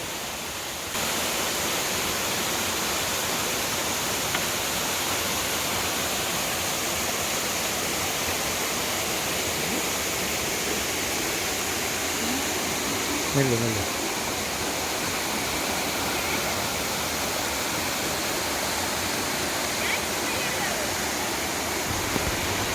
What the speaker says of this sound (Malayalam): ഒരല്പം മുന്നോട്ട് നടന്നപ്പോൾ തന്നെ അടുത്ത വെള്ളച്ചാട്ടം എത്തി